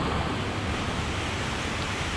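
A winter waterfall in Corsica fed by near-freezing snowmelt, a steady loud roar of rushing water filling the whole moment without pause.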